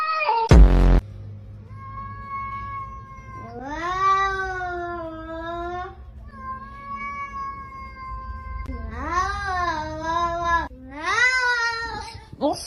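A cat meows repeatedly in long, drawn-out wailing calls, close and loud, after a sharp knock at the start, with a voice briefly heard among the cries.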